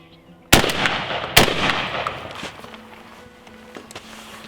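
A shotgun fires a reloaded Federal Gold Medal paper hull shell outdoors, two sharp loud blasts about a second apart, each followed by a decaying echo and quieter rustling.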